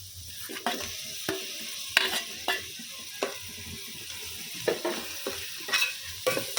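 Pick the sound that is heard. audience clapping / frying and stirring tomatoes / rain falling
frying and stirring tomatoes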